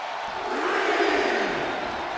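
Wrestling arena crowd in the WWE 2K24 video game, a steady, loud roar of cheering and yelling from a large audience filling the whole stretch without any commentary.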